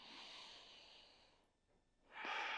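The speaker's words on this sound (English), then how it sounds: "Take some deep breaths here." Deep, slow breathing while holding a yoga camel pose: a long, airy exhale close to the mic, a brief quiet pause, then another strong breath begins.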